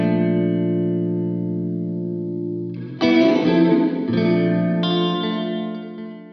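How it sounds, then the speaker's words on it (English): Electric guitar run through a hall reverb pedal set to a medium size and length: a sustained chord rings out, then fresh strums around three and five seconds bloom into a wide, washy reverberant tail. "So you just want a Hall reverb with a medium size length."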